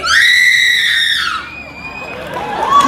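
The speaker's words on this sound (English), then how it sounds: "Let's all hear how you would scream!" A woman lets out a long, loud, high-pitched horror-movie scream at a live special-effects stage show, then the audience answers with cheering and clapping.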